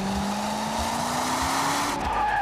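A Corvette C6 sports car drives past nearby, a loud continuous engine note with a rising whine and a hint of tire squeal, holding steady for a couple of seconds.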